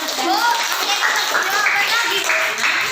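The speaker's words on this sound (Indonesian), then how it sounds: "Tepuk tangan." Children clap together in a classroom religious studies lesson, a bright steady patter of small hands with a voice and chatter mixed in.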